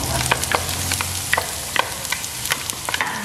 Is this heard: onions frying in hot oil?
yes